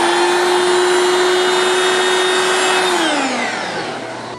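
A vacuum cleaner runs with a loud, steady, close whine during boat electronics rigging after drilling through gel coat, then spins down toward the end.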